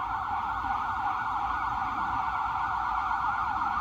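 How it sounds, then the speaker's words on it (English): An ambulance siren sounds near a roadside spot where a van is parked, a loud, steady wail holding at an even level throughout, with low traffic rumble beneath. "Oh, that's a new ambulance."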